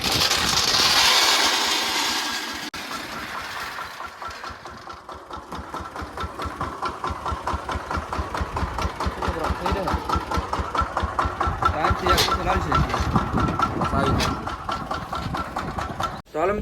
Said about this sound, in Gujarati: મિત્રો ટ્રેક્ટર શરૂ થઈ ગયું છે